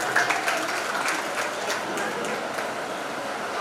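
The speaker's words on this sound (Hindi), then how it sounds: "उनकी सासू जी के लिए भी जोरदार ताली बजाइए हमारे।" Audience at a Shiv Mahapuran religious discourse in Ujjain clapping hard, a dense, steady round of applause with a speaker's voice over it.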